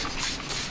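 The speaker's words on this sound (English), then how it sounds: "So you're just gonna spray it all over" A short, steady burst of aerosol spray hisses loudly and close as foaming cleaner is sprayed over a mud-caked engine.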